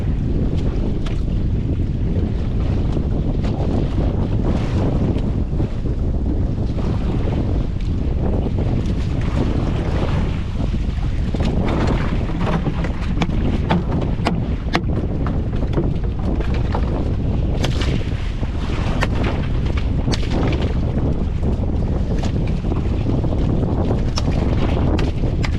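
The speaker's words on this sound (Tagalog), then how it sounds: "Nag-umpisa ng lumakas yung hangin." Strong wind buffets a fishing boat out at sea as a storm approaches, a loud, continuous roar of gusts and microphone wind noise mixed with water and wave wash, without a break.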